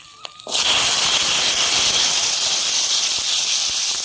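Green chilies and dry red chilies hit hot mustard oil in a kadai with a sudden loud sizzle that starts after a brief quiet moment, then holds as a bright, steady hissing spatter to the end.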